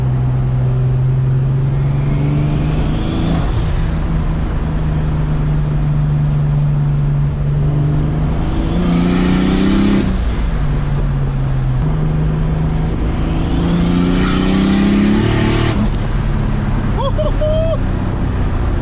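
A car's turbo forged BMW M50 engine revs up and drops back repeatedly in third gear, rising pitch surges as gears climb, steady and loud with a faint rush of wind behind it.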